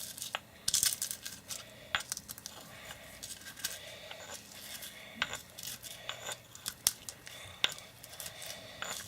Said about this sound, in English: And then you just crush them in your mortar and pestle.